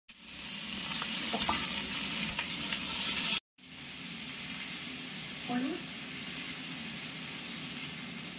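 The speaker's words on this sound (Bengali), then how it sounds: "এই কচুর ফুলগুলো এর মধ্যে দিয়ে ভাজতে হবে" Taro flowers fry in a wok with garlic, giving a steady close sizzle and occasional stirring scrapes that break off abruptly, then resume more quietly.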